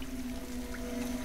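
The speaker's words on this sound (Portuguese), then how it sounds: "Notem um detalhe do jogo, quando ela passar pela cachoeira ali" A waterfall in the video game Tomb Raider Definitive Edition gives a steady rushing pour with a sustained tonal hum running underneath, even and continuous for the whole moment.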